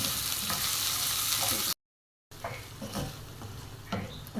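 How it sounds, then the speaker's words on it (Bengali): Chopped onions, three of them, sizzle steadily in a hot pan as they fry until reddish for Bengali banana-flower cutlets, with light stirring scrapes and a brief dead-silent gap midway. "পেঁয়াজগুলো আমি লালচে করে ভেজে নেব।"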